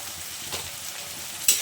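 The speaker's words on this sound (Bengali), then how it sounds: "পেঁয়াজটা একটু খুব ভালোভাবে নেড়ে চেড়ে নেব।" Chopped onion frying in oil, a brief close hiss of sizzling with a light stir and a sharp utensil tap at the end.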